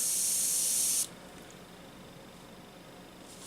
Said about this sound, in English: It always pays to do a little test spray first